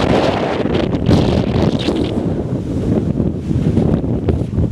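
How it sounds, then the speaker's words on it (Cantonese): Strong typhoon wind from Typhoon Ragasa roars continuously across a seaside peninsula in Huizhou, loud and gusting with heavy buffeting on the microphone. "聽唔聽到半島嗰啲風啊？"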